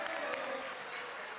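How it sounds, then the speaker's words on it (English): Applause ripples through the National Assembly plenary chamber, a dense patter of many hands clapping steadily for the Speaker, with a faint voice underneath. "we are clapping for you"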